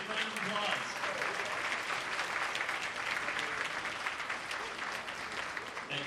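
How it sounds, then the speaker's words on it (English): Audience at an instrumental concert applauds a newly introduced school district superintendent, a steady, dense wash of clapping filling the room for about six seconds with faint voices mixed in. "Let's give him a big round of applause."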